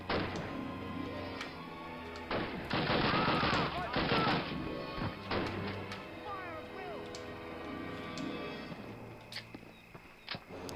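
Sharp gunshots crack out in bursts from the World War II shooter Call of Duty: United Offensive, over a busy mix of game effects and music, with a voice talking now and then.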